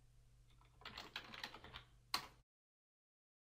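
Quick burst of typing on a computer keyboard while entering HTML head tags, a rapid run of soft key clicks ending in one sharp louder keystroke, then silence.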